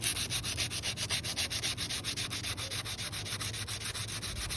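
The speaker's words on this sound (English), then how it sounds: "Defining our bevel, further defining it with the sandpaper." Sandpaper scrubs back and forth across a pruning tool's steel blade to define the bevel, a steady rhythmic rasping of close, even strokes with no talking.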